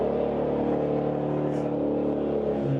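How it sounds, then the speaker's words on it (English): A race car engine runs at a car show, with a steady, loud, low mechanical drone and whir nearby, holding fairly constant with a slight rise at the end; no talking. "They started up the race car over here."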